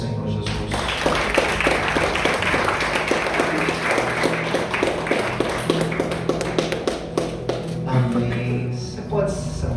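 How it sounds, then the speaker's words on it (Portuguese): A church congregation applauds Jesus during a service after a wedding blessing, with dense, rhythmic clapping holding a steady beat throughout, over a sustained tonal background. "aplauda o Senhor Jesus"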